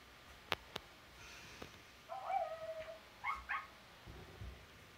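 A puppy whimpers and gives a few high yips in short bursts, fairly close, with a couple of sharp knocks at the start and quiet room noise between the sounds.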